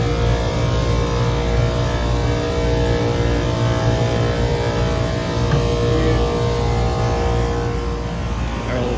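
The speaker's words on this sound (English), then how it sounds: "And I now have all 4 condensing fan motors running." Four condenser fan motors on an HVAC condensing unit run together during a no-cooling service call, giving a loud, steady motor drone with a whirring tonal hum that holds unbroken throughout.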